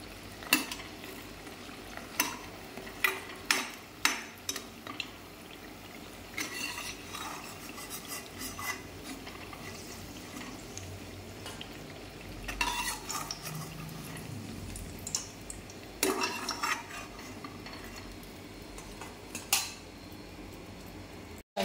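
Boiled potatoes frying in a pan for a vegetable biriyani, with a soft steady sizzle broken by scattered clinks and scrapes of a utensil against the pan. No one talks.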